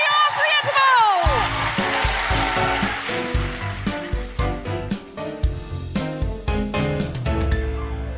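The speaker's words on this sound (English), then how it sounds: "a big round of applause for Millie Bobby Brown" A live comedy podcast audience claps and cheers under loud upbeat music that kicks in after an opening sweep, with the applause blending into the band.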